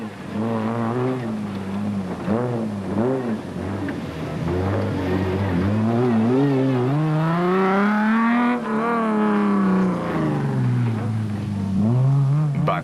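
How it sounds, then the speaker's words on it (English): Castrol Toyota race truck at the 2006 Lesotho Sun 400 off-road race, its engine loud and close, revving up and down through repeated rises and falls before a long climbing pull, with a voice talking over it. "The Castrol Toyota sounded great."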